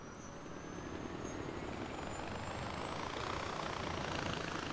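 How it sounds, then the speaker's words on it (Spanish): Helicopter in Far Cry 4 drones steadily with a low, even engine roar and rotor rumble, no speech over it. "Voy a coger el helicóptero que lo tengo aquí."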